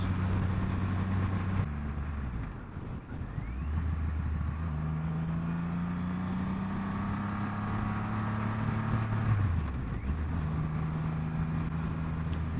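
A 2021 Triumph Rocket 3 motorcycle on the move, its deep engine tone dropping and rising between gear changes while steady wind rush fills the background, loud and close throughout.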